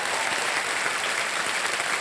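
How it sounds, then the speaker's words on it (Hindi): Studio audience on the KBC Season 15 quiz show set bursts into loud, sustained applause, a dense, even wash of clapping that holds steady throughout with no voices over it. "एक बार जोरदार तालियां बज जाए उनके लिए"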